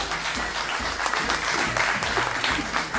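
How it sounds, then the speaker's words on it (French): An audience gives warm, continuous applause to welcome a guest on stage, a full and even wash of clapping heard on its own. "embrassez-la de vos applaudissements, Dominique Saki."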